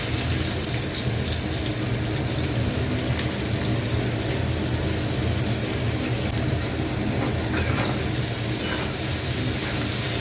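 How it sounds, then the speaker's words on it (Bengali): Chopped onions dropped into hot oil already seasoned with bay leaves and whole garam masala, hissing and sputtering in a continuous loud sizzle with a few sharper crackles, no voices. "এবার আমি এতে কুচনো পেঁয়াজগুলো দিয়ে দেবো।"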